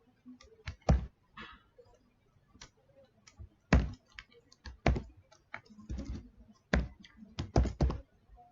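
Keys on a computer keyboard are typed in irregular bursts of clicks and taps, close and moderately loud, with short pauses between strokes and no talking.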